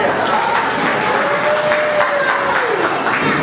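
A large audience at a church convention applauds in thanks to God, producing a loud, sustained wash of clapping from many hands, with a faint voice just audible beneath it.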